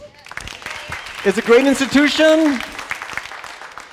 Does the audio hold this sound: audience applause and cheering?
yes